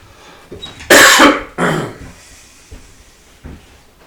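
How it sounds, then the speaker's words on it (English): Two or three loud, close coughs in quick succession, followed by softer throat-clearing sounds, heard alone in a quiet room. "I just suddenly started coughing."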